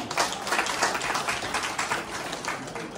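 Audience applause at a thanksgiving event in Beltola, a steady wash of many hands clapping at moderate loudness throughout, sustained without pause.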